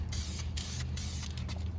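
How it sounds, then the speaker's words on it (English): Satin black paint hisses from a spray can in several short bursts separated by brief pauses, close and steady, with a low background hum. "For a spray can, works really good."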